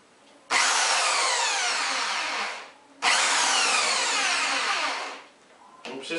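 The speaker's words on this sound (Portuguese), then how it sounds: "Eu vou furar agora" A power drill bores screw holes into wood while building a dollhouse, two loud close bursts of whining and grinding, each lasting about two seconds and winding down, with a short pause between.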